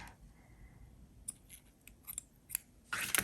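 Scissors snipping through paper for a junk journal, a few quiet separate cuts followed by a louder burst of rapid snipping at the end, with no talk.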